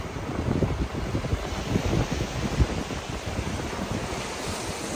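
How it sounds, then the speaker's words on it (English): Ocean waves wash onto a beach in a steady, rushing roar mixed with gusty wind buffeting the microphone, continuous and close with no speech. "Look at this beautiful ocean."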